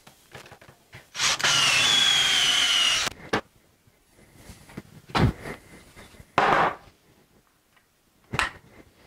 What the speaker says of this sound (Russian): А здесь сверлим сверлом Форстнера